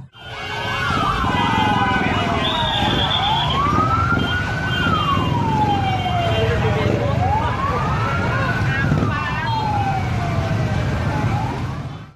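A wailing fire truck siren sweeps up and down repeatedly as an air force fire unit arrives at a burning garment factory warehouse in Cimahi, loud and close over traffic rumble and a higher steady tone.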